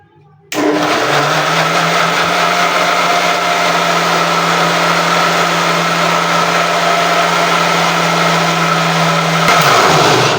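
A kitchen blender making juice starts abruptly and whirs at a loud, steady high pitch for about nine seconds, then its tone shifts near the end.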